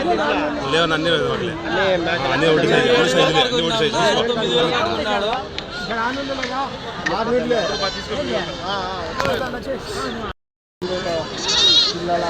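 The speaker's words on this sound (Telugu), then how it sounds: "పద్దెనిమిది వేలు జత పెద్ద సైజు మేకలు" Goats bleat repeatedly amid a busy crowd at a livestock market in Kadiri, with people chattering and bargaining over prices nearby throughout; the noise drops out briefly near the end.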